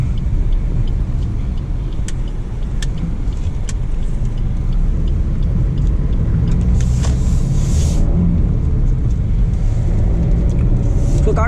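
Steady, loud engine and road rumble fills the cabin of a Suzuki S-Cross running a stage 1 engine and turbo tune while driving, with someone talking over the continuous drone.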